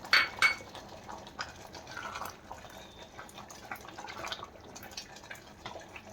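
Chicken thokku sautéed with a spoonful of curd in a cooker pan: a spoon scrapes and clinks against the metal over a soft, moist sizzle, in irregular bursts with no talking.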